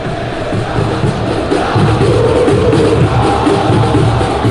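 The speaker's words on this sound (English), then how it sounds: "Crowd appreciates good football all round there." Stadium crowd noise from the eFootball video game, a steady, loud, broad roar of many voices cheering and murmuring that swells slightly partway through and continues throughout.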